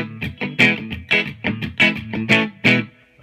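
Electric guitar with Lollar-style pickups on the middle position, played through a Big Knob Vibe Tone rotary effect pedal into a '65 reissue Deluxe Reverb with light reverb; loud, rhythmic chord strums with a warbling swirl.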